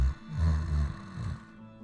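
A voice imitates snoring with two deep, rasping, drawn-out snorts, close and fairly loud.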